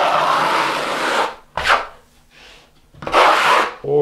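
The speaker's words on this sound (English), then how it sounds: "I'm just pressing lightly on the trowel." A steel trowel rasps across a fresh skim coat on a cement board wall in long, light strokes, a close scraping hiss broken by short pauses, with no talking.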